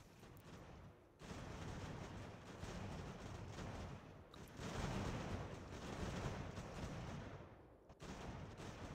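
Ranks of troops firing volleys in the Ultimate General: American Revolution strategy game, a faint, distant crackle of musketry rolling in bursts with brief pauses between them.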